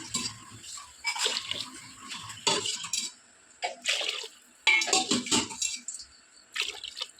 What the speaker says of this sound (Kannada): ಅದೇ ಲೋಟದಲ್ಲಿ ನಾಲ್ಕು ಲೋಟ ನೀರು ಹಾಕ್ತಿದ್ದೇನೆ ಇಲ್ಲಿ